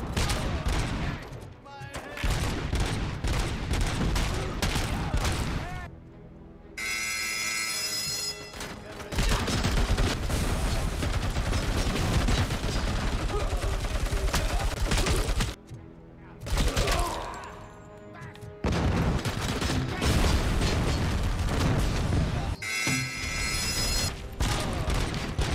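Grenade launcher in the shooter game RoboCop: Rogue City, firing repeated loud blasts and explosions in long dense stretches, broken by brief quieter gaps, with a voice talking in places over the din.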